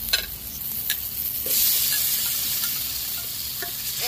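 Semolina snacks stirred in a frying pan with beet salt, a steady close sizzle broken by scraping stirs and a few clinks of a utensil against the pan, with no talking.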